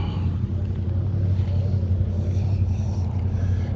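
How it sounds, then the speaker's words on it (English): A Ferrari sports car rumbles nearby, a loud, steady low-pitched engine drone that holds without a clear rev change or voices. "Wow, it's a Ferrari."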